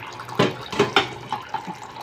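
Water splashing from a kitchen tap while dishes are rinsed, heard as a few close, irregular splashes and trickles over a faint running stream, no talk.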